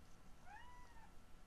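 House cat meowing once at indoor volume, a single drawn-out rising and falling call over a steady low room hum.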